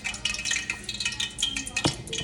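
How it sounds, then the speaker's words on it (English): Seasoned chicken wings, dusted with hot sauce, black pepper and onion powder, being stirred in a bowl: a steady run of close wet squelching and tossing, with light clinks and a sharper knock near the end. "Make sure you mix it all up real good."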